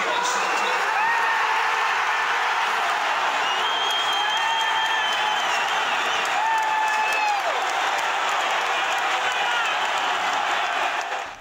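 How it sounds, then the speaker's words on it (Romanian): Football supporters cheering and applauding as Moldova beat Poland 3–2 in a Euro 2024 qualifier, a loud, sustained stadium roar of clapping with rising whoops and whistles throughout. "Suporterii au chiuit și au aplaudat de bucurie."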